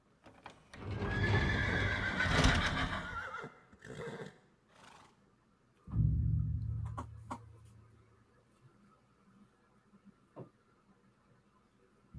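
A horse neighs loudly in a long, shaking whinny, then snorts and blows with a heavy rumble, followed by a few faint knocks and hoof sounds in a quiet setting.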